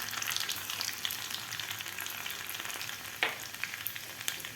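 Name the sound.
mustard seeds and chopped garlic frying in hot oil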